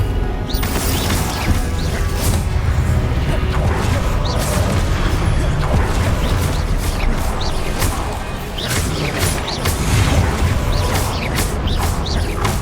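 Confringo blasting spells burst repeatedly in Hogwarts Legacy, loud booming cracks and crashes layered with whooshes and creaks in quick succession, with a voice calling out over the action.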